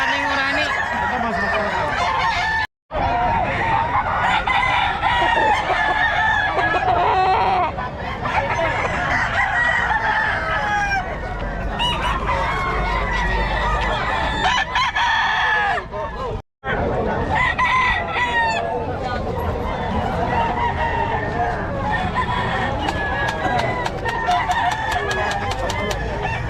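Roosters and chickens at a poultry market in Bocaue, Bulacan, crowing and clucking near and far over a dense, busy background with people talking throughout.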